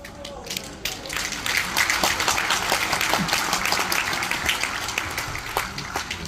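An audience at a lecture on biblical values and anti-discrimination law breaks into applause, a dense wash of clapping that builds quickly and holds steady through the clip.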